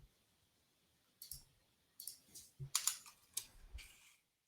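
Fingers tap at a computer keyboard in short, uneven bursts of close clicks after a quiet pause, typing code.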